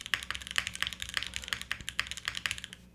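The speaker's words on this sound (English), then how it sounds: "I'll show you guys what it sounds like with the long pull switches on the aluminum plate now" Rapid keystrokes on a Fuji65 v2 keyboard fitted with long pull switches on an aluminum plate, a steady close run of crisp clacky taps with no voices.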